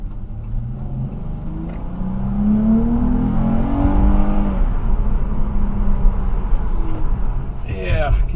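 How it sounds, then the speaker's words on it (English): A Chrysler 300 V6 engine with cold air intake and throttle body spacer revving and accelerating on a test drive, rising in pitch as it pulls away, with road noise throughout and steady loudness. "now we're going to go ahead, take it for a test drive, and see how she drives"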